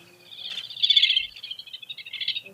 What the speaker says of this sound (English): Definitely little grebe.